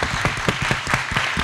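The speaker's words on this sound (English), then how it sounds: "Can we give another round of applause to Professor Colebrook?" An audience at an academic celebration of the 200th anniversary of Mary Shelley's Frankenstein gives Professor Claire Colebrook another round of applause: steady, fairly close clapping that carries on evenly for over a second.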